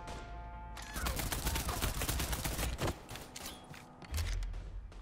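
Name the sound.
gunfire in the video game Mafia III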